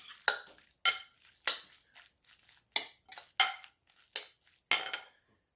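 A sardine salad is stirred in a bowl with a utensil, giving about nine separate scraping, clinking strokes at an irregular pace, close and fairly quiet, with no voices.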